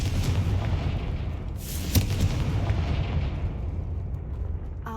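A Confringo fire spell blasts in Hogwarts Legacy, a loud booming burst over a dense rumbling game ambience, with a sharp crack near the middle and a steady roar throughout.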